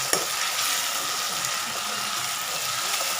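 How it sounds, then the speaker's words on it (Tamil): Tomatoes and green chillies sautéing in a pan give a steady, close sizzle and hiss that runs the whole way through, with a small stir-like bump near the start. "தக்காளி எல்லாம் போட்டு வதக்கிட்டோன்னா அதுக்கப்புறம் போட்டு வதக்குங்க, கரெக்டாக இருக்கும்."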